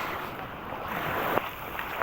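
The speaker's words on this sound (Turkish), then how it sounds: "Deniz çok güzel ama dalga çok var." Sea waves wash in under a steady rush of wind and boat noise out on the water, with one soft splash partway through and no speech.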